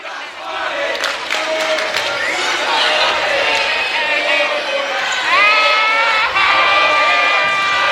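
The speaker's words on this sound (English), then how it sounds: "You hear the interaction of the crazy fans for the Titans and Comets trash talking one another from both sides of the court" Fans at a varsity men's basketball game between the South Garner Titans and the Comets shout and cheer from both sides of the court, a loud continuous crowd roar with sharp yells and whistles over shouting voices.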